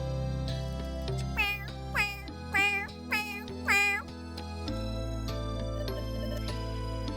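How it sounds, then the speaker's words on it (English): A cat in the video game Purrfect Date lets out four distinct, drawn-out meows in quick succession, clear and close over steady background music. "The fourth cat I approach is a noisy one."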